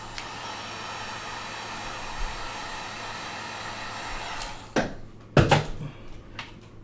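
A heat gun warms an iPhone 12 screen during a screen replacement, giving a steady, fairly quiet blowing hiss. A few sharp clattering knocks follow near the end.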